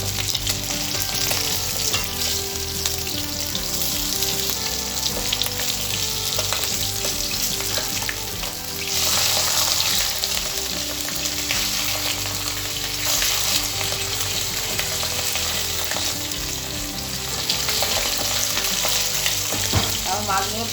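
Fish pieces frying in hot oil in a pan, partly under a lid, with a loud, steady sizzle and dense, continuous crackling and popping that runs without a break and has no talk over it.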